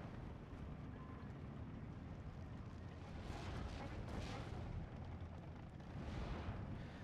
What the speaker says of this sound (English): Sherman goes down to the artillery. Yeah, the 149's absolutely carving through him.